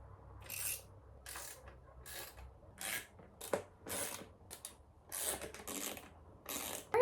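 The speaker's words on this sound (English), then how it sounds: "Now we just gotta tighten everything up" A ratchet tightens the windshield bracket screws on a Honda Rebel 500 in quick repeated bursts of faint clicking, each burst short and close, with small pauses between strokes.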